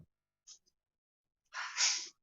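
A brief sharp intake followed by a loud, breathy sneeze burst, alone in an otherwise quiet setting.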